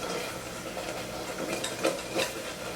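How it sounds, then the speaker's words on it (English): A spoon stirs a thickening peach topping for pizza in a hot pan, giving a steady soft scraping and bubbling close by, with a couple of light clinks near the end. "I keep stirring it because I don't want it to burn"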